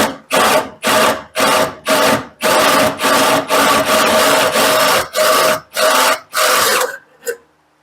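A drill with a standard bit whines through sheet metal for a gas pedal backing plate on a Chevy S10 in a dozen short, loud bursts, each stopping briefly before the next, ending with a quick final spin.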